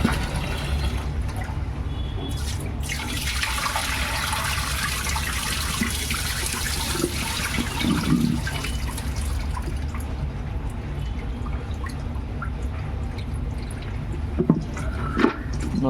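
Fresh turmeric roots rinsed under running water, a continuous splashing flow with dripping and trickling that stays loud and steady throughout, close by and without speech.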